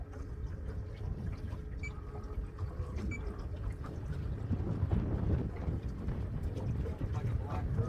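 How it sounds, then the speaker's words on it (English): Strong wind on the coast buffets the microphone, making a continuous low rumbling roar with gusty swells that stay fairly loud throughout, and no clear speech is heard over it. "the wind is really picking up now."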